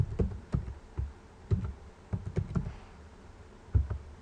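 Password being typed on a computer keyboard, with irregular clusters of light key taps and short pauses between them, close and fairly quiet, with no talking.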